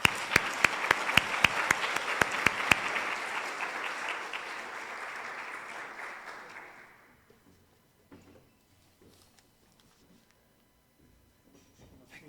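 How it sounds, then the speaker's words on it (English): An audience at the EfD Annual Meeting 2019 conference applauds a speaker: loud, dense clapping with a few sharp claps at the start holds for several seconds, then fades out into near silence. "Let's give Arun a big hand of applause."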